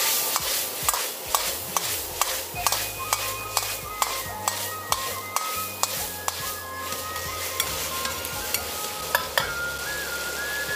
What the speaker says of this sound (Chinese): 倒入青红小米辣，继续用大火快速翻炒均匀。